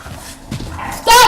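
Dogs barking in a village, one sharp loud yelp or bark bursting in at the end after quieter background noise and distant yips, close to the listener.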